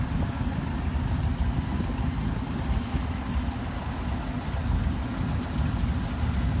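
An M274A2 military Mule, a U.S. Marine Corps vehicle, drives past on three wheels at an outdoor steam show, giving a steady low engine drone under constant broadband outdoor noise, loud and continuous.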